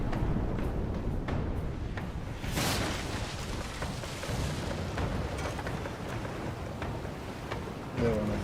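Ship cannons firing during a naval battle in Pillars of Eternity II: Deadfire, a series of heavy booms over a continuous rumbling, splashing background, fairly loud and steady throughout.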